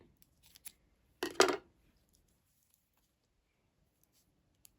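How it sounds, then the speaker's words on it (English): Scissors snip through crochet yarn once, a short close crisp cut, with a quieter rustle just before and near silence afterward. "now you're going to cut your yarn"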